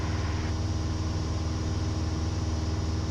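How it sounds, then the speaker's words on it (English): Piper PA-28-181 single-engine aircraft engine running steadily in cruise flight, a loud continuous low drone with pulsing harmonics that fills the cabin without a break. "Engine still running."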